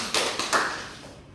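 Brief classroom applause, a few scattered claps in quick succession that fade out within about a second, fairly soft and close.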